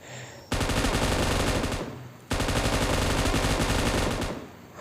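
Bursts of rapid automatic gunfire in a mobile shooter game played on a Redmi Note 8 Pro, two long loud sustained volleys separated by a short pause, up close with no voices.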